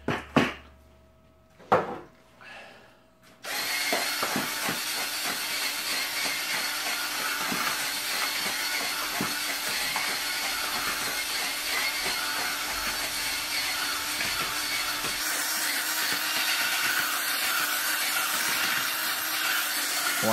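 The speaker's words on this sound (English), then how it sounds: "This is still too wet right now, so I'm going to keep on mixing it with the dry sugar." Bee winter feed being worked with dry sugar, a steady close gritty rubbing and crunching that carries on without a break after a few soft knocks at the start.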